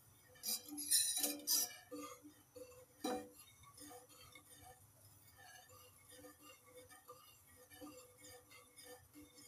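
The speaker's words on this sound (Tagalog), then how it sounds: "Haluin ng haluin hanggang sa kumulo." Spoon stirring a cornstarch and gulaman mixture in a pot on a stove over medium heat, giving a run of light metallic clinks and scrapes, a few louder knocks early on, then steady soft clatter.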